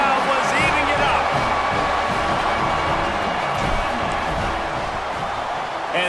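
A football crowd roars after a touchdown, a dense wall of cheering and shouting that holds steady under a commentator's talk.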